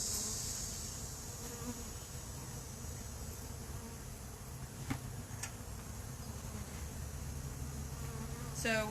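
Honey bees buzz steadily around their hives, a continuous close hum with occasional louder passes of individual bees, faint overall and without talk.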